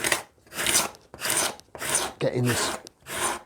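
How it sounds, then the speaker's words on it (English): A sharp steel card scraper rasps glue residue off a wooden body blank on a bench, in four or five rhythmic back-and-forth strokes with short pauses between them, close and moderately loud, with a brief spoken phrase in the middle. "I'm going to get a nice sharp card scraper and just start"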